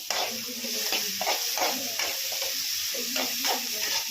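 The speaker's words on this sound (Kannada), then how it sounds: "ಚೆನ್ನಾಗಿ ಫ್ರೈ ಮಾಡ್ತೀವಿ. ಚೆನ್ನಾಗಿ ಫ್ರೈ ಆಗಿದೆ" Tomato masala frying in a pan, a continuous close hiss and sizzle with soft scraping stirs recurring every half second or so, no talk.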